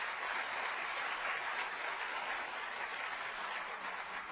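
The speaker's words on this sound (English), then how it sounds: "So please give her a round of applause as well." Steady applause from a seated audience at a fashion event welcoming Essence magazine's editor-at-large, a dense, even wash of clapping that holds at constant loudness for several seconds with no voices over it.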